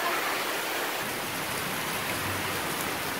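Steady rain falls in October near the end of the rainy season, a continuous hiss of drops spread evenly across the sound with no voices.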